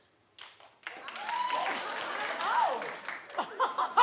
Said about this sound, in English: If you could, clap if you would.